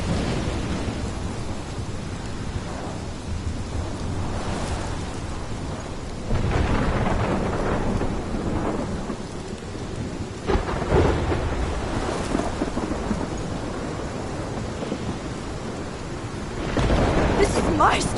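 Rumbling thunderstorm with steady rain in the game Life is Strange, a continuous wash of downpour broken by several loud thunder rolls and cracks, with faint speech underneath.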